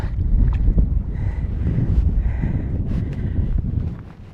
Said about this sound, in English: when the wind's blowing this hard